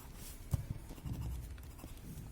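White charcoal pencil on paper during highlighting, soft faint scratchy strokes with a couple of light taps, close and quiet.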